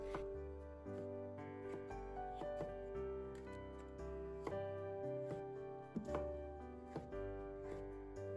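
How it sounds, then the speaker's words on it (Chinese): A knife chopping a green bell pepper into diamond shapes on a board, a series of light, quick taps scattered across several seconds, faint beneath steady background music. "再用刀将青椒切成菱形"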